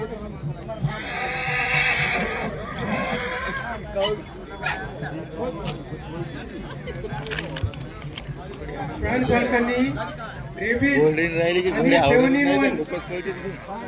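Horses whinny loudly at the Malegaon fair in Maharashtra, shrill neighs rising and falling several times, while people talk nearby and hooves clatter faintly in the background.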